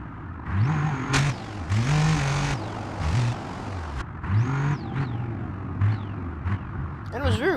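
Van engine revving and shifting in the BeamNG.Drive driving game at a dirt quarry, repeated rises and drops in pitch as it accelerates, fairly loud, with a voice talking over it in places.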